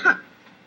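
One short, sharp cough rings out close up and alone, fading quickly into quiet, followed by a faint catch at the very end.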